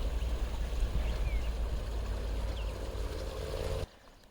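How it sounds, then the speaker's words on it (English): Ocean near a wild camping spot around Cape Town, a steady washing rumble of surf with wind, fairly loud, that cuts off abruptly near the end. "the ocean over here"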